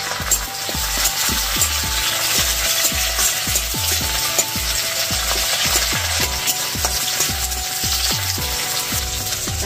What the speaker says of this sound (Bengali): এবার টমেটোর টুকরো আছে কিছুটা দিয়ে দিচ্ছি।